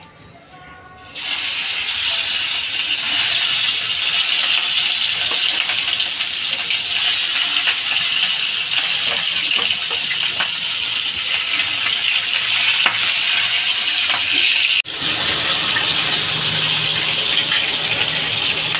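A sudden loud sizzle erupts after a brief quiet moment as pabda fish go into a kadai, then a steady, dense hiss of frying in hot oil continues close up with scattered crackles.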